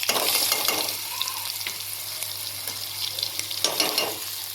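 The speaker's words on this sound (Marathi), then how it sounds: "आता जिरं मोहरीची मी फोडणी घालून घेतली" A cumin and mustard seed tempering fries with green chilli, garlic and coriander paste, a close steady sizzle with occasional stirring scrapes, loudest at the start and near the end.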